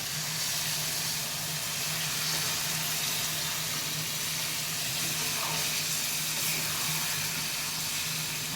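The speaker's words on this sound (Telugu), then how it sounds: "నీళ్లు ఉంచానండి వాటర్ పోద్దాం" Water pours steadily into a pot of chicken masala, a continuous close rushing splash that holds at an even level throughout with no talk.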